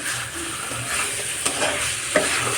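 Green peas cooking with spices in a wok give a close, steady sizzle, with occasional stirring scrapes and a couple of sharp utensil knocks; nobody speaks.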